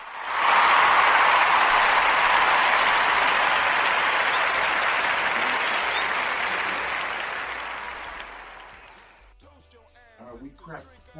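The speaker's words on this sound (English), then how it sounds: "So let's clap it up for y'all." Applause from a small gathered audience at a talk on purpose and sovereignty, a sustained burst of clapping that swells quickly, fades slowly over about nine seconds, then gives way to a voice speaking.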